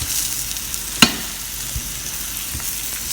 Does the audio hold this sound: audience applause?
no